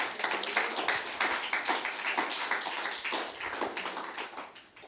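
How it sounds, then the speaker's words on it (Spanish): A church congregation breaks into applause, many hands clapping in a dense, fairly loud burst that carries on for several seconds and tapers slightly at the end, with no talk over it. "Alguien dele un aplauso al Señor."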